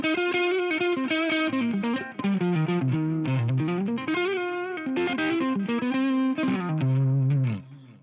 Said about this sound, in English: with the Mooer Green Mile, I have it set to a very low gain setting